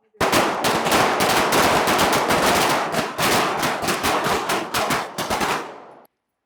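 Pistol shots fired in quick rhythmic strings during a shooting-range rhythm drill, many sharp loud cracks in rapid succession over several seconds, then abrupt silence.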